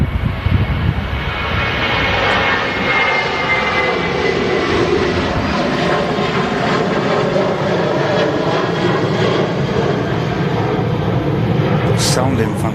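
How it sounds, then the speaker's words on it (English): A Ryanair jet rotates on takeoff at Manchester Airport, its engines producing a loud, steady, broadband roar that holds unbroken from start to finish. "They rotate from the Ryanair there."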